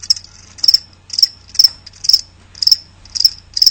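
Crickets chirping in a steady rhythm of about seven bright, close chirps, used as a sound effect in a radio ad, alone without talk.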